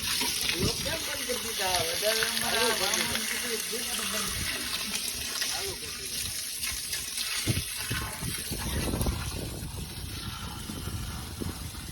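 Water runs steadily into a barrel, a continuous gushing rush with clattering and voices in the background.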